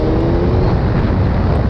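A Suzuki SRAD 1000 R sport motorcycle engine roars loudly and steadily at high speed, droning continuously without pause or voices.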